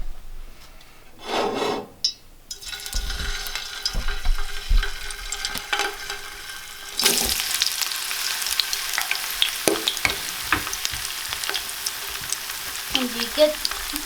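French fries frying in hot oil in a home kitchen, a steady sizzling hiss with occasional stirring and scraping knocks, fairly close, with a brief voice near the start.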